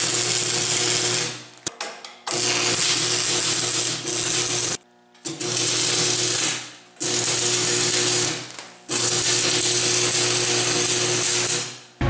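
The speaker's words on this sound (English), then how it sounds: "now we're going to tack the center part of the hinge to the grapple itself" Welding torch tack welds the center of a hinge onto a steel pallet fork grapple for a skid steer, with several loud, steady sizzling crackles of one to three seconds each, separated by brief gaps and no talk.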